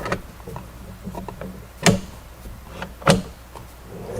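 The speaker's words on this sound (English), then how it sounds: "Reattach the drawer." A vanity drawer slides back onto its runners with two sharp clacks as it seats, surrounded by light scraping and handling noises.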